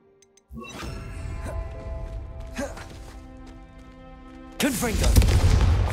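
Bombarda spell explosions in Hogwarts Legacy, a string of booming blasts with ringing magical tones, the last burst the heaviest, over a low game rumble.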